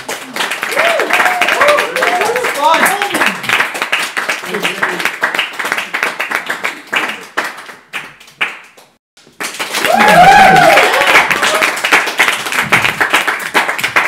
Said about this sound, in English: give a big clap on his exit